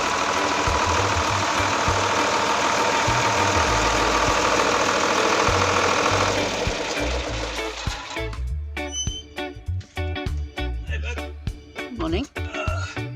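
A tractor engine idles with a steady, rumbling chug, then fades lower as a voice begins talking over it.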